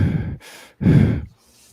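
Heavy, exaggerated breathing performed as a gag, two loud drawn-out breaths with short gaps, close and alone with no talk.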